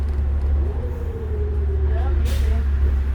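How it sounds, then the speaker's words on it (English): A 2002 New Flyer D40LF city bus engine drones low and steady from inside the vehicle, with a rising whine and a short hiss of air near the end. "this bus seems louder than I remember."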